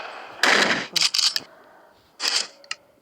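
Gunfire in a survival shooter video game, a loud burst of shots followed by several quick cracks, a pause, then another short burst and a final single snap.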